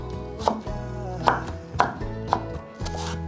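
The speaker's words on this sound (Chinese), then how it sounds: "把红萝卜切片，把红萝卜切条" A knife cutting a carrot into slices and strips on a board, four or five distinct close chopping knocks spaced apart, no speech.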